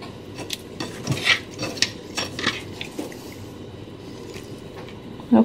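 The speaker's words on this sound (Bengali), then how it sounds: "আমার মাছগুলো আমি এখানে ট্রান্সফার করব।" Small fish pieces being moved into a pan of spiced onions produce scattered metallic clinks and scrapes of a utensil against the pan, light and irregular, with a brief louder knock at the very end.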